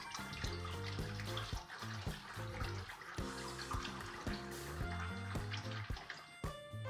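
Lukewarm water with a little fibre hair shampoo sloshes and trickles in a basin as a synthetic wig is soaked, giving a steady close splashing with small drips, no voices.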